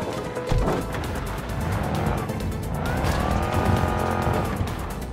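A car in Cyberpunk 2077 bounces over rough off-road ground, its engine droning as it rises and falls, tires scrabbling and squealing, with knocks and rattles from the uneven terrain.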